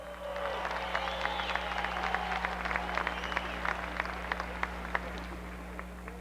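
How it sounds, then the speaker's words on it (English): At a 1990 TQ midget race finale, a racetrack crowd applauds a race driver, the clapping scattered and moderate, heard at a distance over a steady low hum with some talk. "give him a huge round of applause"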